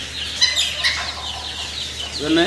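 Fancy chickens, red and black-and-white roosters and hens kept at a farm, give soft clucks and short calls amid faint wing flapping, fairly quiet and close, with no talking.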